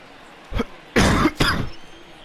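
Someone coughs close into a microphone, one short throat-clearing burst followed by two louder, longer coughs in quick succession.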